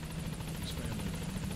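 A helicopter coming in to a landing zone in Metal Gear Solid V, its rotor chopping in a fast steady pulse, loud and close and continuous throughout.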